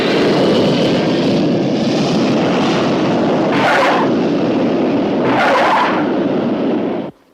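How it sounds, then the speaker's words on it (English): A Pan American Airways airliner arriving from London roars loudly and steadily, engine noise swelling twice before cutting off abruptly; no talking. "Pan American Airways announced the arrival of their flight 703 from London"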